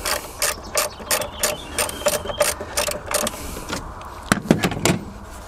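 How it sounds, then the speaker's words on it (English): A ratchet on a 13 mm socket and long bar clicks steadily, undoing the 12V battery clamp in a Renault Kangoo Electric van, with a few heavier knocks near the end, up close. "This is where you're going to want a 13 millimeter socket on a long bar to release that."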